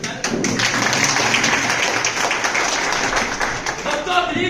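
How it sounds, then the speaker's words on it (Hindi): A seminar audience in Dumka breaks into dense, sustained applause, loud and continuous with many hands clapping together and a few voices mixed in. "तो ताली बनता है"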